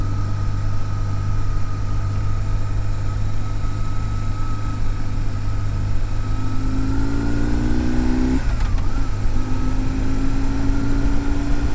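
ATV engines drone steadily on a snowy mountain road near a frozen lake, a constant mid-pitched engine hum with one rising rev that peaks sharply and drops, heard over a continuous rough wind-like background with no talk.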